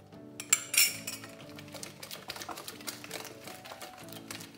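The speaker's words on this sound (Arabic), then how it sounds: "غنخلط مزيان هاد العناصر ينسجموا ليا" Sugar and eggs being mixed for Moroccan fekkas dough, with quick, quiet clinks and scrapes of a utensil against a bowl and a few sharper taps near the start.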